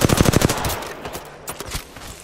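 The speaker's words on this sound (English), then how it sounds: "Getting shot at." Rapid automatic gunfire in Apex Legends rattles loudly in a tight burst at the start, then gives way to scattered, fainter shots and impacts.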